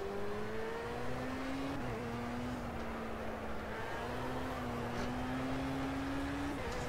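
A BAC Mono racing car in Project Cars revs steadily, its engine drone holding a fairly even pitch with small dips and rises, loud and continuous throughout, alone without talk.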